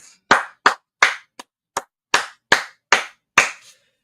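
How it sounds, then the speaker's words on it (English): Group hand clapping in a room, about nine separate loud claps spaced roughly every half second, slightly uneven and echoing briefly, with no talk between them. "That being said, clap it up."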